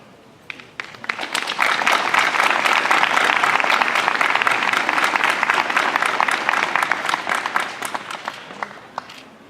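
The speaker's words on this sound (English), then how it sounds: "One more round of applause for our honorary minister." Audience applause at a college commencement fills a large hall, steady dense clapping from many hands that rises quickly, holds for several seconds and tapers at the end.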